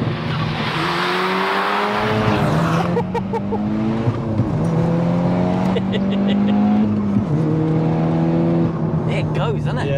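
Manual 470 bhp MK6 VW Golf R under hard acceleration, engine note rising through the revs with gear-change dips and a crackling exhaust, loud and close inside the car with occupants talking over it.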